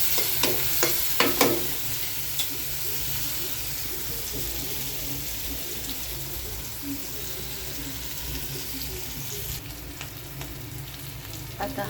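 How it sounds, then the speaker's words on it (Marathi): Onion and green chillies sizzle steadily as they fry in a pan, a continuous bed of crackle with a few stirring scrapes near the start, no voices over it. "कांदा टाकून घेतलेला आहे. तो असा छान फ्राय करायचा कांदा."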